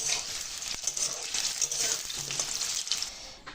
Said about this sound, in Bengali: আমার কড়াই গরম হয়ে গেছে, তেল দিয়ে দিয়েছি, এখন আলুটা ভেজে নেব